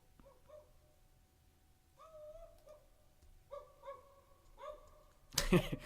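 A human voice imitates a dog barking, recorded close on a pair of C414 microphones: several short woofs and yelps in a quiet room, ending with a louder burst.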